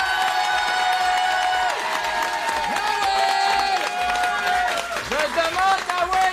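Studio audience on a French television show cheering and applauding, a dense wash of claps and shouts that runs under music and excited voices, loud and continuous throughout.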